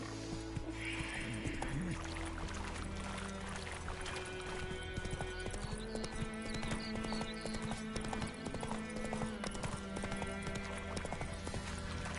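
Hooves of Roach, the horse in The Witcher III video game, clip-clop steadily at a trot throughout, close and continuous over a dense bed of game music and ambience.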